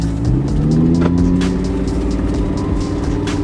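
Lamborghini Gallardo pulling away, its engine revving and rising in pitch under a loud, rumbling exhaust note, close and continuous.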